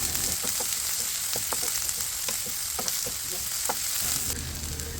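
Chopped shallots and onions sauté steadily in a pan for a Kerala beef roast, giving a loud, even sizzle broken by soft clicks of stirring.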